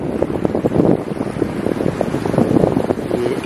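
Cool evening wind buffets the microphone on a calm island beach in Lakshadweep, a loud, gusting rumble with a little water and breeze in the background, no voices.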